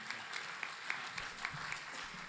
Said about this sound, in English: let us invite with a big round of applause our keynote speaker, Professor Dr. Sunil Kumar Singh.